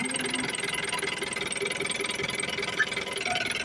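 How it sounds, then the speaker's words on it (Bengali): A fresh-condition Mahindra Big Bolero pickup with an inline pump diesel engine runs steadily at idle, a close, even rhythmic chugging with light rattling throughout and no voices. "এই যে দেখেন ইঞ্জিন সাউন্ড কন্ডিশনটা কতটা সুন্দর কতটা ভালো"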